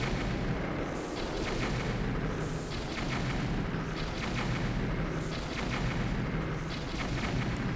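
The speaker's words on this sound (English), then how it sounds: "Such explosions." Repeated booming firebomb arrow explosions in The Legend of Zelda: Breath of the Wild erupt in quick succession over a dense rumbling background, loud and chaotic like heavy game combat.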